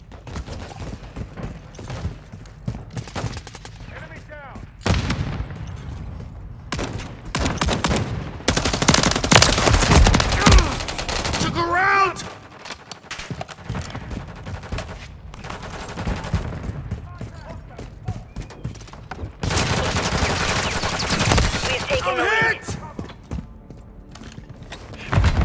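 Sustained bursts of machine gun fire from a first-person shooter game, dense and rattling through the whole stretch, with louder volleys in places, over faint voices calling out.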